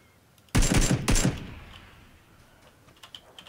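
Two loud, sharp gunshot bursts from PUBG ring out back to back near the start, each with a dense crack and rumble, then fade into a long echoing tail with a few faint distant pops afterward.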